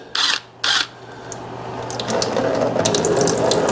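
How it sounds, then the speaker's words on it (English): Coolant drains from the radiator of a Yamaha Kodiak 450 ATV that sat for eight years. Two quick ratcheting bursts come first, followed by a steady, close splashing pour of liquid. "we're just going to go ahead and drain the coolant out"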